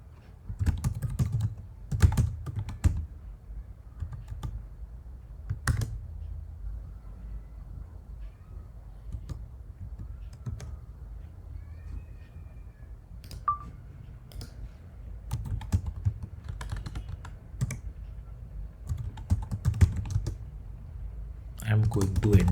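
Keyboard typing to sign in to an AWS account, heard as scattered bursts of soft key clicks at close range with quiet pauses between them, over a low background hum.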